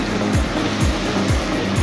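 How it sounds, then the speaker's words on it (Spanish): Water rushes steadily at the Malacatiupán waterfall in Atiquizaya, El Salvador, a loud, close, unbroken roar with no voices. "Por acá podemos escuchar el sonido de lo que es el agua, cómo corre, cómo fluye acá en este lugar"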